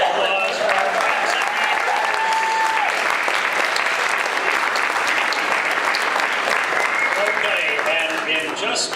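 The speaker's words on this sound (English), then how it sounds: "One more round of applause for our friends" Sustained applause from an audience at a Martin Luther King Jr. community breakfast for guests from Amherst, a dense, even wash of clapping lasting throughout, with voices faintly mixed in.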